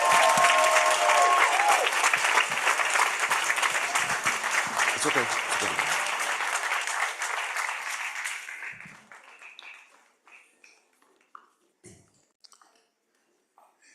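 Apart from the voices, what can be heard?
audience applause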